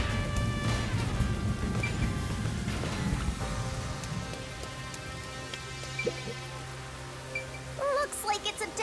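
Steady rainfall in the video game Master Detective Archives: Rain Code, a dense patter of drops under game music and tones, with a few louder splashes near the end.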